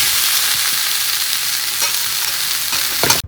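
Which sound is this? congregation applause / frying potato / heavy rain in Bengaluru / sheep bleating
frying potato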